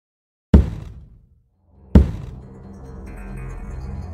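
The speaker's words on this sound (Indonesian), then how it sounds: "Bunyi itu bukannya bunyi ketukan biasa, tetapi lebih menyerupai bunyi dentuman, seolah-olah seperti seseorang melompat ke arah pintu dengan seluruh badan." Two heavy, booming thuds strike the front door of a house about a second and a half apart, as if someone throws their whole body against it, each followed by a low rumbling decay and ongoing background noise.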